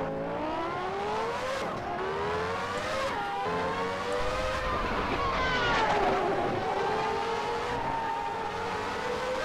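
In the Assetto Corsa racing game, Ayrton Senna's 1990 McLaren Formula One car at the Nürburgring revs and whines continuously, rising and falling in pitch through gear changes, loud and close with no pauses.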